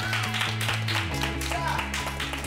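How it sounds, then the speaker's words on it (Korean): Clapping from a group in a classroom runs beneath a steady, tonal musical background, rhythmic and moderately loud. "박수 한 번 더 쳐주세요."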